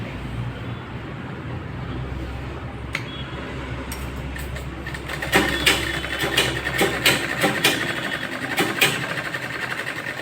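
A sewing machine runs while stitching a lined blouse, a steady mechanical whir under scattered clicks and fabric handling, growing busier and louder partway through with rapid rattling bursts.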